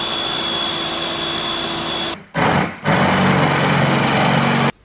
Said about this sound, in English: Cutting these holes is taking forever because I haven't got a pillar drill, so I'm just using 2 normal drills, different sizes.